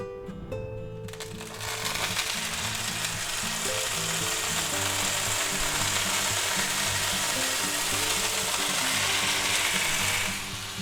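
Marinated pork chops sear in a hot pan, a loud, sustained sizzle that swells up within the first two seconds and holds steady and close, with a low musical backing underneath.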